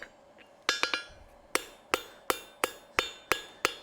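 Hot metal on an anvil is struck to cut it off during forging. Sharp, ringing hammer blows land close by: a quick pair, then a steady series of about eight evenly spaced strikes, each with a short metallic decay.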